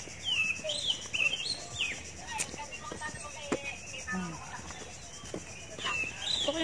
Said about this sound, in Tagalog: Kumakanta yung mga ibon.